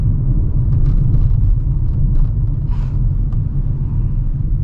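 A Kia Stonic car engine accelerating at partial throttle gives a steady, loud, low rumbling drone that holds fairly even throughout, with no voices.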